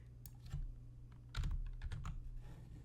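Quick bursts of keystrokes on a computer keyboard while a typo gets corrected, a few scattered taps followed by a denser run of clicks, close and fairly quiet with no talking.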